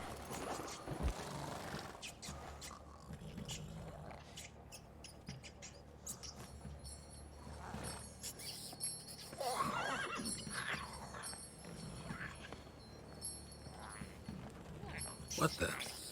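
Horse neighing and hoof sounds in the video game The Witcher 3: Wild Hunt, a whinny and scattered clip-clops set among game ambience and sound effects, with characters talking.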